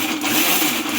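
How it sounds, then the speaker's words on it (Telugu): A mixie mixer grinder blends tomatoes for chicken biryani, giving a steady, loud, close whirring drone that runs unbroken through the second. "మిక్సీ జారు మూత పెట్టుకొని పట్టుకోవాలి."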